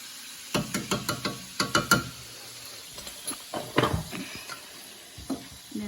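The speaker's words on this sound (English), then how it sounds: "with my spatula, I'm just kind of pressing it down" A spatula presses and scrapes flour in a pan for green enchilada sauce, making a close series of quick taps and knocks, a brief lull, then further scraping bursts over a faint sizzle.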